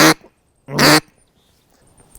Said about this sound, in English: So that's just your general quack.